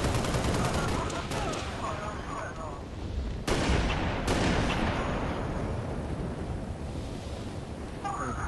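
Halo Reach multiplayer gunfire crackles in a steady dense stream with a couple of sharp louder shots midway, under continuous game noise and some voices.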